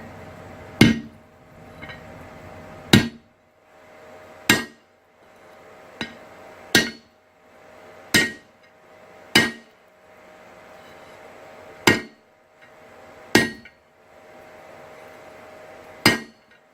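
Hammer blows on metal at an anvil while forging, the anvil shifting and bouncing on a lumpy base; about ten sharp, ringing strikes spaced roughly one to two seconds apart, close and loud, with no talk.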